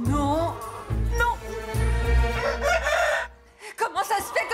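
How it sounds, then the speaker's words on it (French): A rooster crows loudly inside a house bedroom, its long drawn-out call ringing near and full, followed by a quieter, choppy tail of sound. "Comment ça se fait que ce coq est dans ma chambre?"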